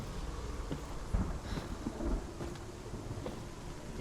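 Thunder rumbling through a stormy scene in the VR game Hellblade: Senua's Sacrifice, a steady roar of rain-like noise with low rolling booms swelling around the middle, fairly loud and continuous with no talk.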